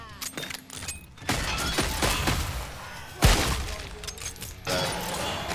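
Magnum revolver shots fire in the Killing Floor 3 video game, with sharp cracks and thuds among a dense wash of other in-game combat noise.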